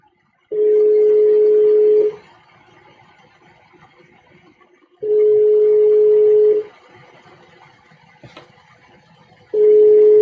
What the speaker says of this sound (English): Let me call you back.